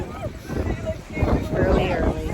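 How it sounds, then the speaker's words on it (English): Strong wind gusts buffet the microphone outdoors on a family trip in Greece, a rough, surging roar that rises and falls throughout, loud and close. "Super windy"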